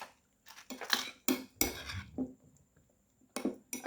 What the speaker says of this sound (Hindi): ये देखें, इतना सा निकाल के इसको अच्छी तरह मिक्स कर लेंगे।